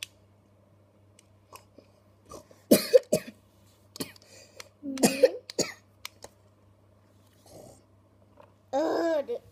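A human voice imitates coughing pigs with a series of short, raspy, throaty cough bursts, close and fairly loud, spaced irregularly over a steady low electrical hum.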